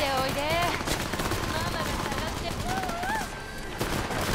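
Rapid bursts of Cyberpunk 2077 gunfire crackle continuously, with electronic tones and sound effects layered over the shots.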